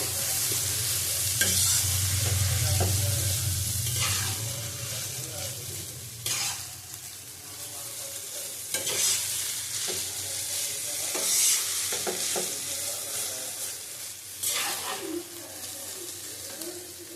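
Egg chicken chow mein stir-fried in a pan, loud busy sizzling with repeated scraping and clattering strokes of a spatula, close and continuous.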